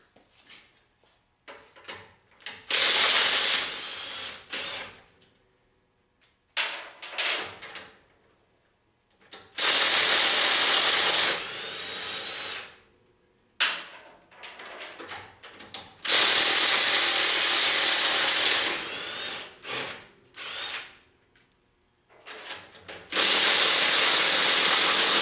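Ratchet tools or impact wrenches taking the wheels off a Ford CobraJet Mustang race car, in loud whirring bursts of a few seconds each with quiet gaps and small clicks between.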